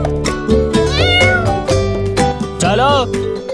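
A kitten gives two drawn-out, rising-and-falling meows, one early and a longer one near the end, over a busy bed of music and background voices.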